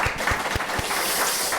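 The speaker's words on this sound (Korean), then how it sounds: "옆에 있는 어머니들 박수." A congregation of mothers at a Sunday church service applauding, a brief soft patter of clapping heard from a distance.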